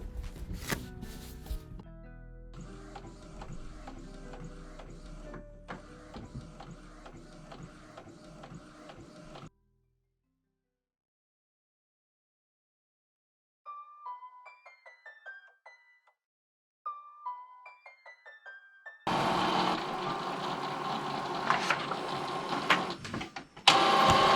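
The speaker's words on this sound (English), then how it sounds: "so I'm going to go ahead and print this" An Epson ET-2760 printer converted for sublimation runs through a print job: whirring feed motors and mechanical clatter, a quiet pause, then scattered high electronic whines and a louder burst of rolling paper-feed noise toward the end.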